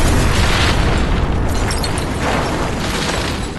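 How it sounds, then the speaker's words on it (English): A building blowing up in a staged demolition explosion, a loud, sustained broadband roar and rumble filling the whole clip with no pauses, fading only slightly toward the end. "And then on the big building explosion"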